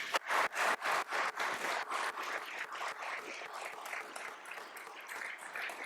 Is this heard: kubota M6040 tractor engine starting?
no